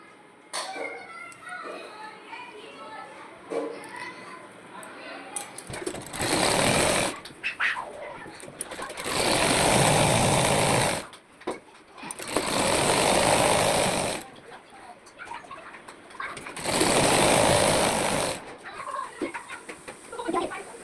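A domestic sewing machine stitches the seams of palazzo pants in three long bursts of steady whirring, separated by pauses filled with fabric handling and soft talk; a person speaks quietly before the stitching begins.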